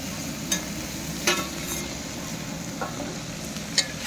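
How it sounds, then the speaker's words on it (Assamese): Potatoes and pointed gourd fry in a pan with a steady, close sizzle, broken by a few sharp scrapes and clinks of stirring. "আলু ভাজাটো দি দিলোঁ লগতে ভাজি আছোঁ"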